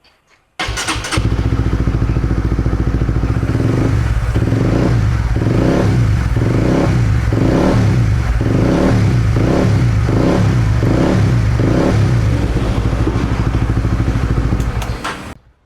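A Honda Winner motorcycle engine, rebuilt after worn piston rings caused oil burning, starts and runs close by with a steady, even idle and light rhythmic clatter, then cuts off.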